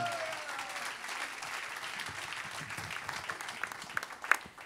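A church congregation applauding together, a dense, sustained wash of clapping heard at moderate distance with a few sharper claps near the end.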